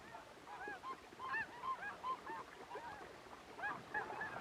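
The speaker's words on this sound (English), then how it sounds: "A flock of snow geese has arrived, and each pair is selecting a nesting site." A flock of snow geese honks at a nesting site, many short overlapping calls in bursts at moderate distance, fairly faint and alone.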